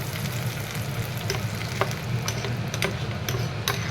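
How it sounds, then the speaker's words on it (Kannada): Oggarane tempering crackles in hot oil for cucumber tambuli, a dense continuous sizzle with sharp pops scattered throughout, close and fairly loud with no talking. "ಅದಕ್ಕೆ ಲಾಸ್ಟಿಗೆ ಒಗ್ಗರಣೆ ಕೊಡಬೇಕು."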